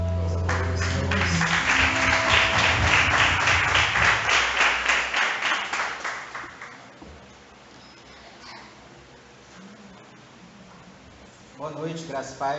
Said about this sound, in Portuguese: Nós aplaudimos.